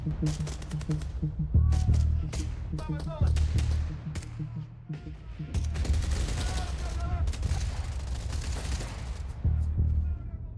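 Sustained machine gun fire in a war scene, dense rapid bursts rattling almost without pause, loud and close with a deep rumbling undertone and brief lulls between volleys.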